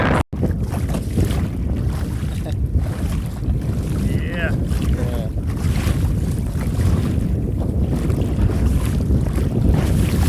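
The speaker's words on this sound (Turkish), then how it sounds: "Rüzgar tam karşımızdan esiyor. Çok şiddetli." Strong, steady headwind buffets the microphone on a boat near Fethiye, Turkey, over the boat's rumbling motion and water noise, roaring continuously throughout.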